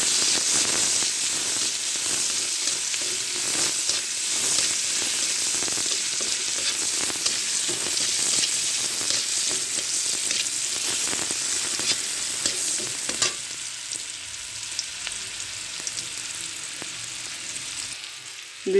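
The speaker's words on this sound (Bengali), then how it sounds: "এবার ডিম ভাজা তেলে আমি পেঁয়াজ দেব" Chopped onions dropped into oil left from frying eggs, a strong hissing sizzle close by that holds steady for most of the time, then drops to a quieter simmering crackle near the end.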